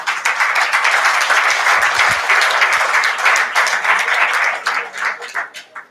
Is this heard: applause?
yes